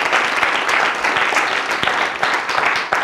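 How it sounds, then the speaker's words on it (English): An audience in a hall breaks into a big round of applause: many people clapping together in a thick, sustained wash at close, loud level. "Give yourselves a big round of applause"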